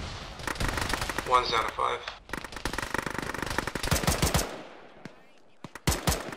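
Medium machine gun fire in a military shooter game, dense rapid bursts rattling for several seconds alongside radio-style voices talking, then scattered single shots near the end.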